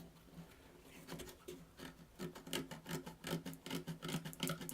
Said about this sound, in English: you just take your fingernail and you scrape away all the junk